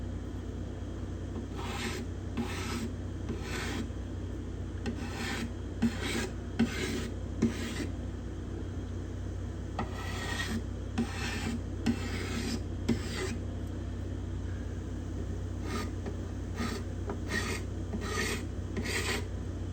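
Hand scraping along the bindings of a spruce guitar top, a steady rasping scrape repeated in short strokes with brief pauses between them, close up and alone without any talk.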